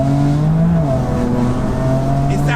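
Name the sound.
BMW M4 exhaust revving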